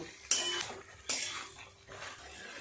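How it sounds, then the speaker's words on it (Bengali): Vegetables and spices are stirred together in a pan, a utensil scraping and knocking against the metal in a few sharp clinks with softer scraping between, close and fairly quiet. "খুব ভালো করে একটু সময় নিয়ে সমস্ত মশলার সাথে সবজিগুলো কষিয়ে নেব।"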